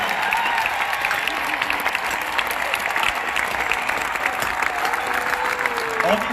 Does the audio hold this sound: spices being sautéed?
no